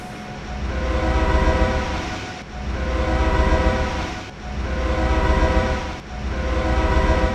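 An Amtrak train horn sounds in four long, loud blasts with short breaks between them, each a sustained chord close by.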